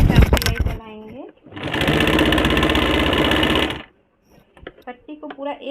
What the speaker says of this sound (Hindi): सबसे पहले तो इसको सीधा से चाप सिलाई चलाएंगे।